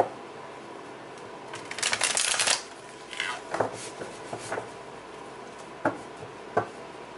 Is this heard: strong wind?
no